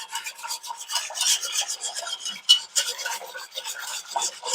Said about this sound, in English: Then we're going to stir that in. We want that to dissolve.